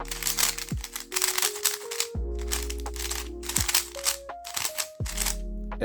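Rapid turning of a new Meilong 3x3 V2M speed cube produces close, repeated bursts of dull, low-pitched plastic clacking, broken by short gaps, with sustained tones humming underneath.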